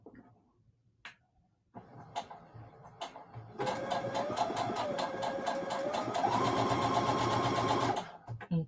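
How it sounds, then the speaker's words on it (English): A sewing machine stitches quilt pieces for a pumpkin block. A few sharp clicks lead into a close, steady mechanical whirring and rapid ticking that runs for several seconds, then stops. "we're just going to sew 8 of these"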